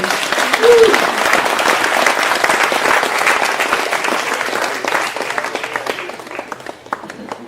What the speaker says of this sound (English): Let's just give a quick round of applause for our wedding party.